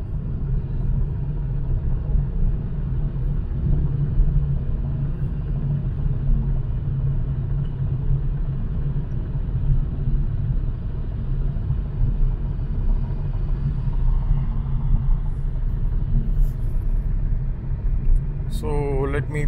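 Inside a moving Mercedes-Benz CLA 250E hybrid, a steady low road and engine rumble fills the cabin throughout, with someone talking over it.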